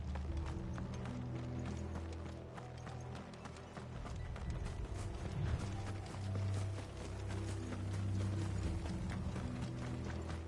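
Horse hooves clip-clop steadily through a Final Fantasy 16 game scene, a continuous rhythmic trot close by with a low ambient music bed and no talk over it.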